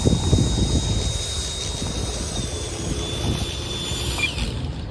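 An E-flite Habu STS radio-controlled jet plane rolls for takeoff, a steady loud whine of its ducted fan holding throughout with a thin high tone shifting near the end.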